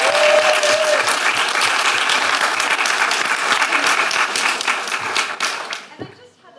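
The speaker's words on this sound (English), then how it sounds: "So a round of applause for Jason." Warm applause from an evening audience at a hospital storytelling event, a dense, sustained clatter of clapping from a roomful of people that fades out over the last second.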